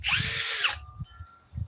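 A $50 cordless power drill on a $250 battery whirs loudly at close range, its high motor whine holding steady for under a second before it spins down and fades, with light knocks and thumps following.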